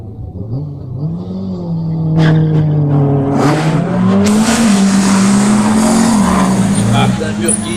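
A Peugeot 205 GTI race car at the La Roche-La Berra hill climb revs loudly at the start, its engine climbing and falling through the gears in a rising, sustained roar while a commentator talks over it.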